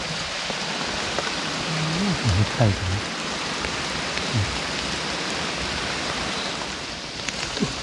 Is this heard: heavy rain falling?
yes